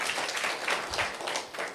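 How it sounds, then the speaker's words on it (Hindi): Audience in an Indian school hall applauds for Jharkhand's education minister Jagannath Mahto, a steady wash of many hands clapping at moderate level for a couple of seconds, without distinct speech over it. "चलिए ताली बजा दीजिए।"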